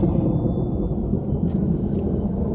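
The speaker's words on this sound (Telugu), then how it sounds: "బాగా ఉరుముతున్నాయండి, ఉరుములు" A deep, continuous rumble of thunder rolls on steadily, low and heavy, with no break.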